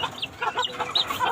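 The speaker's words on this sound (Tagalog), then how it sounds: "Yung kulay puti natin na alaga na inahin" Chickens, including a white hen, cluck nearby in a short run of soft, overlapping calls.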